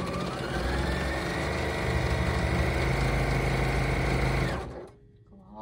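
A sewing machine back-stitches the edges of a toweling tote bag, running in a fast, steady, close whir for several seconds before stopping abruptly.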